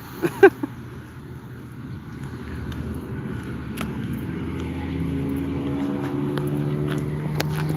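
A loud car approaches on a roadside shoulder, its engine drone swelling steadily from faint to loud over several seconds, with wind buffeting the microphone and a couple of brief knocks at the start.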